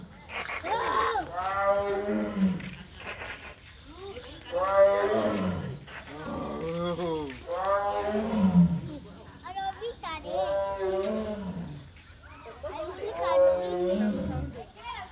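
A tiger in the jungle lets out a series of about six drawn-out, moaning roars, each rising and falling, with short pauses between them. The calls sound fairly close and stand out clearly.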